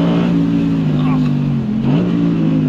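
An Audi R8 RWD Performance on a closed private mountain road gives a loud, close, steady engine drone whose pitch dips and climbs again as it accelerates.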